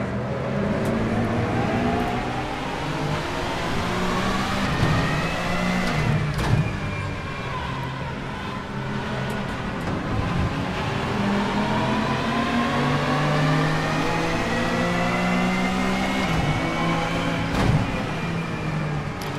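A racing car engine in Assetto Corsa whines and climbs through the gears over and over, fairly loud, with occasional thumps and shifts between revs.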